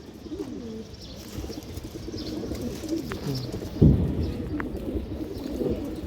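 Domestic pigeons cooing softly in a loft, low throaty rolling calls repeating under a rumbling, noisy background with a brief thump partway through.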